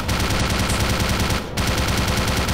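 Sustained automatic gunfire in the video game Black Mesa, a loud, dense stream of rapid shots that breaks off for a split second midway, then resumes and carries on to the end.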